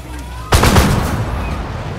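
A single sharp, loud blast goes off from a BMD-2 in the Armored Warfare tank game when a missile is fired, then a rumbling tail fades under steady background noise.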